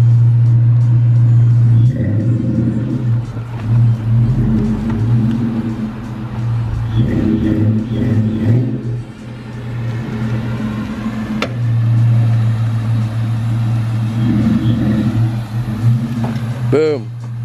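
A Ford 5.0 V8 (two-valve) car engine idles with a deep, steady rumble and swells into several rev blips, loud and close, with people talking over it.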